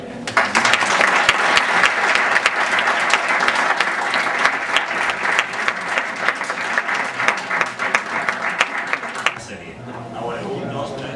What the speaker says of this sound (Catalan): no podem començar sinó un aplaudiment vostre